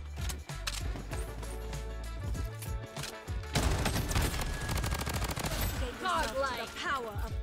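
MP5 submachine gun fire in the shooter game Bloodstrike, rapid bursts of automatic shots rattling over game music and effects, dense and loud through most of the clip.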